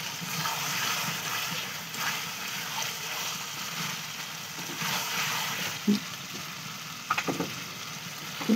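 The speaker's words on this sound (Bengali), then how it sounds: "এই ঢাকা চাপা দিয়ে দিয়ে মাংসটা কষিয়ে নিচ্ছি" Chicken coated in chilli powder and masala fries in a pan for biryani, a continuous close sizzle with scraping stirs and a few louder clatters near the end, without speech.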